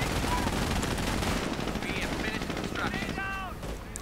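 Video game machine gun fire in a World War II real-time strategy battle, dense rapid bursts with battle noise, fading slightly toward the end.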